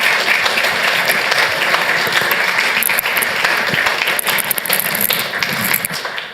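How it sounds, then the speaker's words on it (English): Sustained applause at a city council meeting as students are given a round of applause, a loud, dense clapping from a room full of people that continues steadily throughout. "Let's give these guys one more round of applause"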